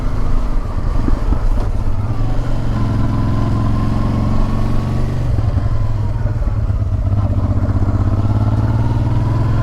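A Honda Transalp motorcycle is ridden along a road with a steady, close engine drone, constant wind rush and mechanical clatter throughout.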